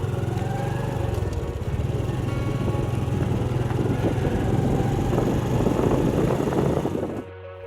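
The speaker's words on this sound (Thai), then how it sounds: "ข่อยจึงบิดคันเร่งขึ้นสู่ผู้อาสา" A motorcycle ridden uphill on the road up Phou Asa in Champasak, Laos: a steady, loud engine drone under throttle that holds nearly constant for about seven seconds, then cuts off abruptly.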